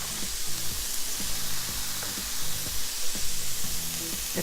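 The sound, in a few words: garlic crushed into a sizzling pan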